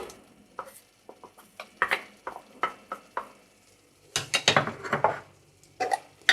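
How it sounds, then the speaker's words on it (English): Carrots tumble into sautéed onion in a pot for miso soup, giving a string of soft clattering knocks and scrapes of utensil on metal, with a busier burst of clatter and sizzle near the end. "So, our onion is ready. I'm going to add the carrots now."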